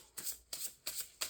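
Heart-shaped fortune-telling oracle cards are shuffled in four quick, close riffling bursts of crisp card flutter, with nobody speaking.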